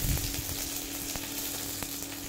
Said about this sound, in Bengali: তারপর দিয়ে দিব রসুন, সব কিছু ভেজে নিতে হবে।